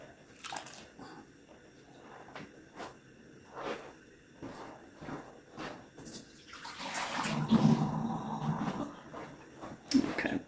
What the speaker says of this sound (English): that is definitely enough water to cover these, so I will empty this into my sink